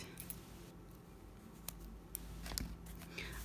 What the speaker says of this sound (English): trim off my thread